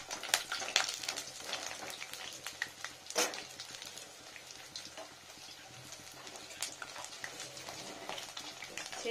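Cauliflower pakoras spiced with ground fennel and ginger frying in hot oil, a soft steady crackle and sizzle with scattered sharper pops and a few clinks of a utensil, fairly quiet and close, with no talking.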